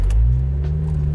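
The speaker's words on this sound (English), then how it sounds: "This is the 2-liter turbo version, so it makes about 255 horsepower, and stepping on the gas, it goes." A BMW Z4 with a 2-liter turbo engine of about 255 horsepower accelerates, giving a loud, steady low engine rumble heard from inside the car.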